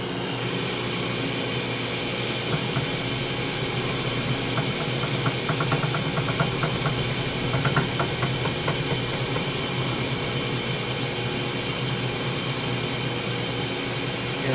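Drill press turning at 260 RPM while drilling into a bowling ball, a steady mechanical drone and hum running throughout with faint rattling and clicks around the middle.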